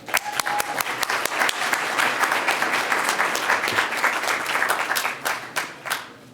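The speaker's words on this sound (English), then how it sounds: "a warm hand of applause for Simona" A conference audience breaks into applause, sharp individual claps at first swelling into a full, steady round that fades out toward the end.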